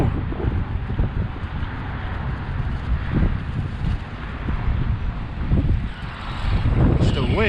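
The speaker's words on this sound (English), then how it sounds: "It's the wind, y'all." Wind buffeting the microphone at an outdoor RC car test spot, a steady low rumbling roar with gusty swells throughout, loud and close.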